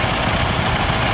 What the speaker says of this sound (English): Just coming into the arena at the bottom end now, we have an Optimum motor car.